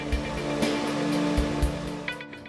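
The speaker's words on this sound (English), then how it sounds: "Now you'll use a blow dryer to dry the glue quickly." A blow dryer drying glue has a steady whooshing roar running close and continuous over a low motor hum, with a few soft thumps.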